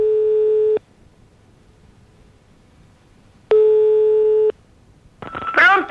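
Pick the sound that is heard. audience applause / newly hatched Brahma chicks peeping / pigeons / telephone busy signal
telephone busy signal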